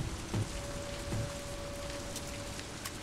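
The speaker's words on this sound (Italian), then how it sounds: "anche in questo livello piove e tira vento" Rain patters steadily on surfaces in the video game Toby: The Secret Mine, a soft continuous hiss with a few faint low thuds, quiet and without talk.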